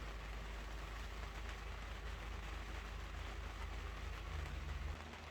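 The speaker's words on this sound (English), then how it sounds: "It's just raining, raining, raining." Rain falls steadily outside a sailboat moored in cold winter weather, heard from inside the cabin as an even, continuous hiss with a low hum underneath.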